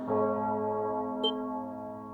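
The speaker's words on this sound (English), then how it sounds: "It's not the Cathedral's bell." A sustained church-style bell tone from a fantasy role-playing video game, a steady ringing hum with layered harmonics holding for about two seconds, with a small bright chime partway through, alone without talk.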